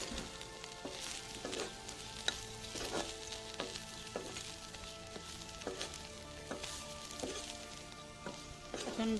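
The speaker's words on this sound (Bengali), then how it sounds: "এইভাবে আমি একটু লালচে লালচে করে ভেজে নিব, বাদামি কালার করে।" Ingredients for a Bengali bharta sizzle and fry in a pan until browned, a steady crackling hiss broken by regular scraping stirs, moderately faint and without voices.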